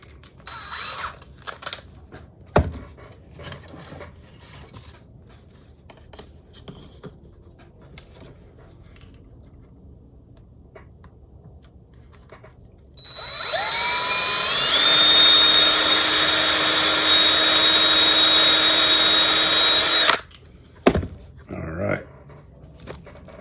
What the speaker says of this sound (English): I'm just going to chuck it up in this drill here